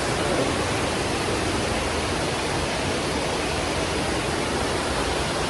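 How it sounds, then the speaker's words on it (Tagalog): A man-made waterfall at a plantation in the Philippines roars as a steady, even wash of falling water, loud and constant throughout with no voices. "So ayan, nandito na kami ngayon dun sa waterfall."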